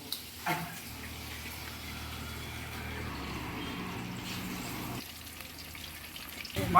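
Fish frying in oil at a small shop in Tiruppur, a steady close sizzle running throughout with brief clatter near the start and end.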